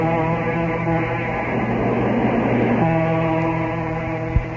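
Train passing, played as a sound effect in a vintage radio mystery drama: a steady, continuous rumble with sustained humming tones that holds for several seconds, with no voices over it.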